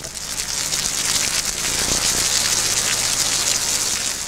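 Steady, dense hiss of heavy rain pouring down, constant and close throughout, with a faint low rumble underneath that could be distant thunder.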